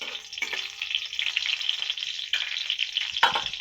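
Potato frying with green chilli tempering for Bengali aloo tomato posto, stirred in the pan: a close, bright sizzle with intermittent scraping strokes and a sharper clatter near the end, no voices.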